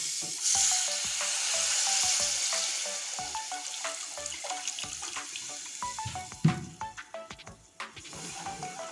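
Water poured into frying spices with green chilli for a potol and egg dolma gravy, starting as a loud hiss and settling into steady bubbling sizzle with occasional spoon clanks.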